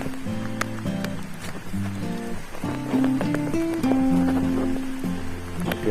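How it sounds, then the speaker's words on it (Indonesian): Steady rain falling during the rainy season, a continuous patter of drops on surfaces with soft tapping and a few louder hits, mixed with faint background hum. "Hujannya datang pergi, datang pergi"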